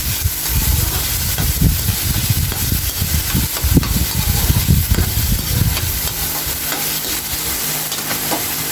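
Mung bean sprouts and tomatoes being sautéed in a pan, loud close sizzling with repeated stirring scrapes and rustles that ease to a steadier hiss toward the end, no talking.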